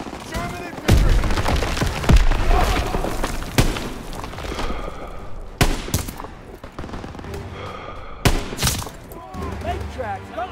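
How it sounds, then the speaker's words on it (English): Bursts of rifle and machine-gun fire with heavy booming explosions from a Call of Duty WWII battle, sharp shots scattered throughout over shouted voices and combat din. "Gunfire! We must be near our guys."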